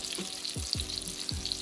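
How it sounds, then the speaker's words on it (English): Close, steady sizzling of chicken breast frying in a pan, crackling and spitting continuously, with a few soft low thumps underneath. "Sizzle, baby, sizzle."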